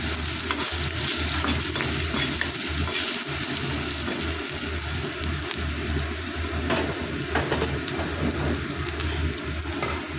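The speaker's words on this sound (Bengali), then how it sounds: "পেঁয়াজ রসুনটা ভেজে নিচ্ছি" Onion, garlic and a dried red chilli frying in a pan for a Bengali jute-leaf dish, a steady dense sizzle running throughout with occasional stirring clatter, no voices.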